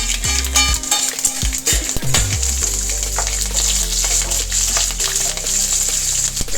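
Mustard seeds, cumin and green chillies are tempered in hot oil for masala mango rice, giving a loud continuous sizzle and spatter with crackling pops and occasional stirring clinks.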